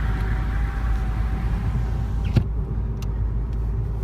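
A car rolls slowly through the Cuba Road Cemetery in Illinois, its steady engine rumble and road noise filling the cabin, with one brief thump partway through and no talking.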